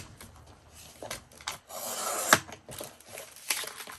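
Junk mail envelope paper is folded by hand, giving soft close rustles and rubbing scrapes with a sharper crease near the middle, quiet and irregular.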